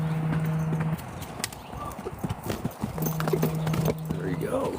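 Horse hoofbeats at a canter during a training session, a quick rhythmic clip-clop that comes in bursts, with people talking over parts of it.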